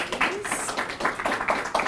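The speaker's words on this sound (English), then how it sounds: "I knew we'd have a hard time not clapping." A few scattered audience claps at an academic student symposium, light and irregular, in a short burst of hand claps close together.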